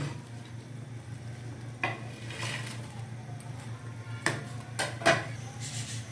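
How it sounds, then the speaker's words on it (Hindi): Spoon stirring pakoras into a simmering pot of kadhi, with a gentle bubbling bed and a few sharp scrapes and clinks against the pan. "अभी हम पकोड़ों को कड़ी में मिक्स कर लेते हैं।"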